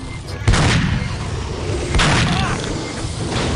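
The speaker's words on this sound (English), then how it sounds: "Shotguns are awkward to use." Two heavy shotgun blasts in the game Aliens vs Predator 2: Primal Hunt, booming and close, about a second and a half apart, each with a brief rumbling tail.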